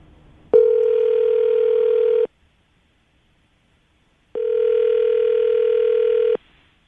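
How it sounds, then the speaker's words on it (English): A telephone ringback tone on an outgoing call during a morning radio show, two long steady tones separated by a silent gap of about two seconds, clear and alone. "I'm going to call him right now, see if we can get him on the phone"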